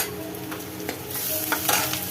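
Curry leaves and onions sizzle in hot oil in a pan while being stirred, a steady close crackle with scraping stirs and no talk.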